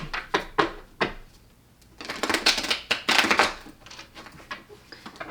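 Tarot cards are being shuffled with some trouble: several sharp separate clicks and taps come first, then two dense, close bursts of riffling card flutter, and a few scattered snaps follow.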